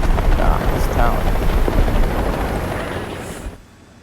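Helicopter in the War Thunder ground battle game, near an anti-tank missile armed tank: a loud, continuous rotor roar and rumble that carries on steadily, then drops off sharply near the end.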